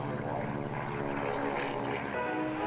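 A 1939 Lockheed Hudson twin-engine propeller aircraft, flown by the Temora Aviation Museum, passing at the Australian International Airshow 2019, a steady droning engine hum with layered harmonic tones throughout.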